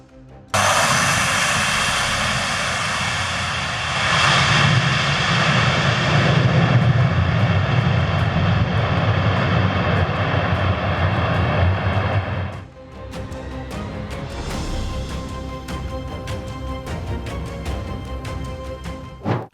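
Airplane roars past with engines loud and steady for about twelve seconds, then the tone shifts abruptly to a rougher, rumbling mix with clattering as it touches down.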